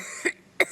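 Two short, sharp coughs about a third of a second apart, close and fairly loud, with quiet between them.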